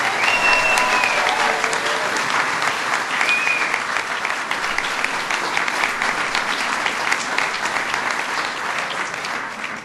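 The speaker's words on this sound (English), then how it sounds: "Please give them a big round of applause." A large audience applauds Taoiseach Kenny and his wife at a St. Patrick's Day event, sustained dense clapping at full volume for about ten seconds with a few faint whoops.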